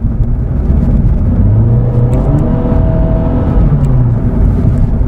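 A 2018 Honda Fit with a 1.5-liter direct-injected engine running rich under a fuel trim fault pulls hard toward wide open throttle, its steady loud drone rising in pitch through the revs with road and wind rumble underneath.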